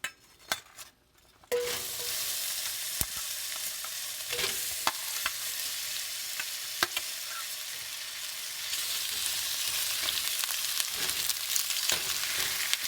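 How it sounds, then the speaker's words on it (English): Chopped onions drop into heated oil for a chana masala and sizzle loudly and steadily, with a few utensil clinks and scrapes over the frying; it grows slightly brighter near the end. "Once the oil is heated a little bit, add the chopped onions."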